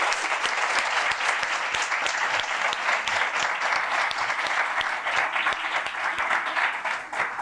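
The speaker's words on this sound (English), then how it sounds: "I just have to ask you for a big applause" Sustained audience applause after a conference talk on energy security, a dense, even wash of many hands clapping throughout, loud and continuous.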